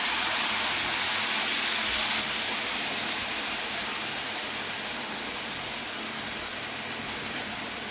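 Melted jaggery syrup poured into a hot pan with grated coconut, producing a steady loud sizzling hiss that slowly fades a little over several seconds.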